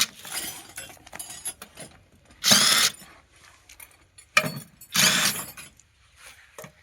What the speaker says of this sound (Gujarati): મશીનથી બોલ્ટ ખોલી રહ્યા છે